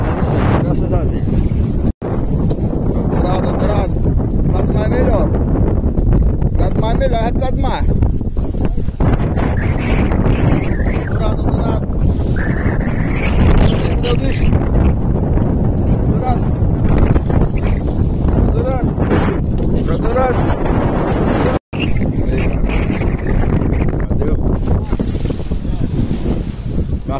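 Strong wind roars across the open sea around a fishing boat, loud and buffeting the microphone, with waves and the boat audible beneath and people talking throughout.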